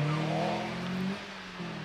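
A Mazda MX5 sports car from 2003 accelerating up the Prescott hill climb, its engine note rising in a steady, loud drone before easing off near the end, with no talk.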